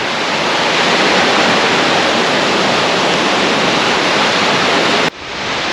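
Wind and waves on the shore of the large Lake Vättern make a loud, constant roaring rush that cuts off abruptly near the end, then eases back in.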